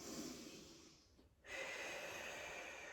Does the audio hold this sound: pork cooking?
no